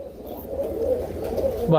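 Pigeons of Hazar and Chittian breeds coo steadily in a loft, a low continuous murmur of overlapping calls throughout, with a brief louder sound near the end.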